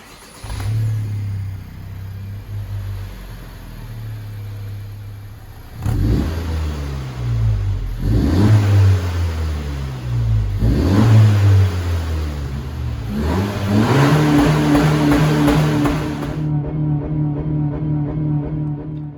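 A Honda Civic with a 1.5 litre VTEC turbocharged engine and sport exhaust, revving from idle in several rising bursts, each climbing and falling back, then holding a higher steady drone before cutting off, close and loud.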